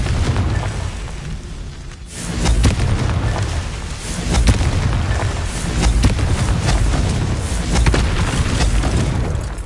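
The Confringo fire spell in the Hogwarts Legacy video game erupts in loud, dense booming blasts over a continuous roaring rumble of game sound, with no speech.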